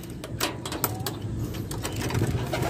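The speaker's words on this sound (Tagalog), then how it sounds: "Ayan mga kalapatids, pakakawalan natin sila." Domestic pigeons being set free give soft coos within a busy, noisy outdoor scene, with scattered fluttery bursts that sound like flapping wings and no clear talk.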